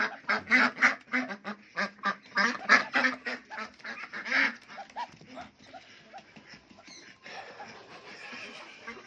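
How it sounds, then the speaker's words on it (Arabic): Domestic ducks kept for slaughter quack loudly in a rapid, close run of calls that thin out into quieter scattered quacks toward the end. "البط ده عندي من زمان"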